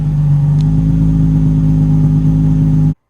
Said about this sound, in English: Just listen to the idle, it's so perfect.